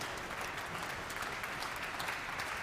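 Steady applause from an audience after a performance in the 2021 piano competition finals, a dense, even wash of clapping heard from a distance.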